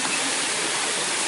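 Water from a stream runs steadily over rocks placed along its bed, giving a loud, even rushing wash that holds without a break. No one speaks over it.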